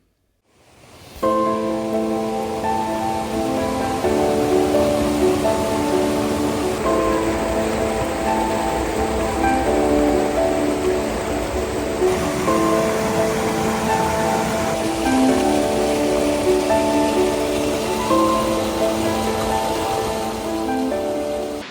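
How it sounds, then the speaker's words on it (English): A busy brook rushes through the rocky woodland of Padley Gorge, a steady, full wash of water noise that stays loud and unbroken from start to finish, with no voices. "the brook is busy, but it's not raging"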